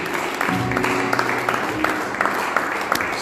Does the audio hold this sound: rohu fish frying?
no